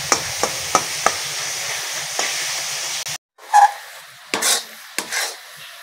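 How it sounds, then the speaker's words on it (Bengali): Coconut mixture for barfi stirred in a pan until dry: a run of sharp spatula scrapes and taps over a steady hiss, then a pause and a few louder, separate scraping strokes close by. "এরকম নেড়ে নেড়ে পুরো শুকিয়ে নেবো।"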